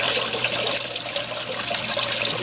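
Water runs steadily over a gold prospecting clean-up table, washing black sand off its surface: a constant close rush and trickle of flowing water with no pauses throughout.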